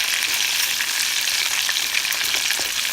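Pork neckbones fry in hot grease, a loud continuous sizzle with faint stirring and turning sounds as they are flipped, and no voices.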